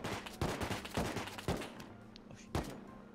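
Gunfire in the video game Rust: several sharp, spaced shots at low level, with a fainter pop or two between them.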